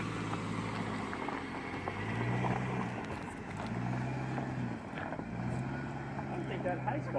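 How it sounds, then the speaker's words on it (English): A stock Subaru Crosstrek's engine labors uphill off-road, rising in pitch in repeated surges, steady and close, with a voice talking over it. "you hear how the motor just gets traction"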